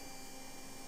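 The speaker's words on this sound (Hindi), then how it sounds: "मोटर की आवाज मैंने आपको सुना दी है।" A 500-watt hand blender motor whirs in a steady, even drone with a faint hum, constant throughout the brief moment.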